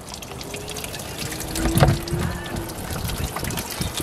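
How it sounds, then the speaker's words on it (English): Coolant trickles and splashes out of a Ford FG turbo during a coolant service, a wet pouring sound close by that swells briefly in the middle. "Coolant everywhere."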